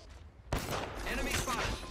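Enemy gunfire in a PC video game lobby breaks out suddenly after a brief quiet moment, then carries on as a continuous, fairly loud rattle of shots, with a voice speaking over it.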